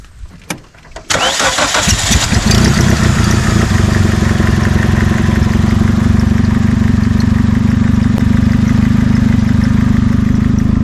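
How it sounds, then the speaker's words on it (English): A 2000 Nissan Sentra engine running with Dawn dish soap in it cranks and catches after a few faint knocks, then settles into a loud, steady rough idle that holds throughout. "how long this engine will run with Dawn in it"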